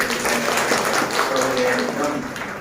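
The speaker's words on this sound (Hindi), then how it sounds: "हम ताली बजाएंगे।" A church congregation applauds together, a steady wash of many hands clapping at close range throughout, with voices talking over it.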